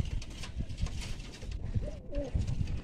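An Andhra pigeon held in the hand gives soft, low cooing calls, close up and brief, amid handling rustle and background noise.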